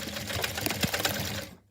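A sewing machine stitches a dart on a bag, producing a fast, even run of mechanical clatter at close range with one sharper knock partway through, then stopping abruptly.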